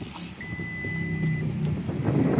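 Power tailgate of a 2025 Acura MDX A-Spec SH-AWD closing automatically, a single sustained warning beep over a low motor hum with faint mechanical clunks as the hatch moves, close by.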